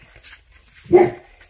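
A dog close by gives a single short, sharp bark that stands out loudly against a quiet indoor room, preceded by faint rustling.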